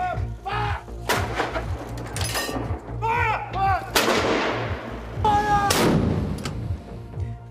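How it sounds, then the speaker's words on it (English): A ceremonial gun salute for the Duke's death, with several loud, booming cannon reports spaced a second or so apart, each echoing and rolling away outdoors, while a voice speaks between them. "During the day, there were gun salutes across the country and around the world to mark the Duke's death."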